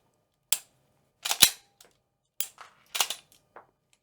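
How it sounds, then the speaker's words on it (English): Sharp mechanical clicks from a Springfield Echelon pistol as the trigger resets, with snap caps loaded: several crisp, close snaps spaced irregularly over a few seconds, alone in a quiet room. "release the trigger and you should hear an audible click of the trigger resetting"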